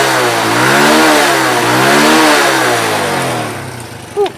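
A Honda Grand motorcycle with a trimmed magnet, stock small carburetor and standard engine is revved hard and loud at close range. The engine climbs and falls in pitch through two surging revs before dropping off, with a brief blip at the end.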